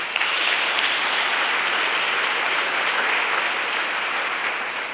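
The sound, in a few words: applause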